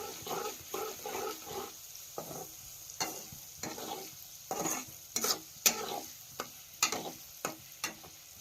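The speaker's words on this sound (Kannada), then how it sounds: "ಉಳ್ಳಾಗಡ್ಡಿ ಏನೈತಿ ಒಂದು ಸ್ವಲ್ಪ ಕೆಂಪು ಕಲರ್ ಬರೋ ತನಕ ಏನೈತ್ರಿ ಎಣ್ಣೆ ಒಳಗೆ ಹುರಿನ್ರಿ ಅದು" Onions frying in oil in a village kitchen give a low sizzle, broken by repeated rhythmic stirring scrapes and clatters of a spoon against the pan. No one speaks.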